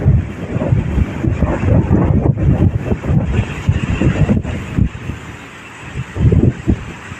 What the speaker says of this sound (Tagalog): Sobrang mahangin. Mahangin yan.